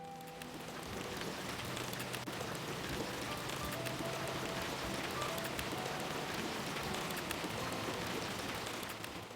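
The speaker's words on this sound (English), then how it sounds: "I do want you guys to just get a little ASMR of the rain." Steady rain ambience in the Animal Crossing video game, a dense, even patter of drops on surfaces that stays constant throughout, close and alone with no talk.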